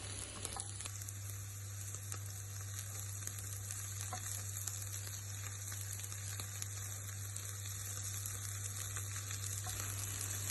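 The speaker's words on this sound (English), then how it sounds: "Saute the onions, stir to ensure that the onions do not burn." Onions sauté in a hot pan for spicy tomato soup, giving a soft, even sizzle that holds steady and fairly faint, with a low constant hum beneath and scattered small crackles.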